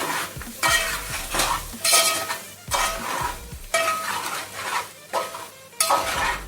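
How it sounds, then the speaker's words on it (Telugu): A spoon stirs restaurant-style chicken fry with coriander and curry leaves in a pan on a switched-off stove, with repeated scraping strokes and a soft sizzle, close and fairly loud, with no speech. "ఫైనల్గా కొత్తిమీర, కరివేపాకు యాడ్ చేస్తాను కదా, ఒకసారి కలుపుదాం."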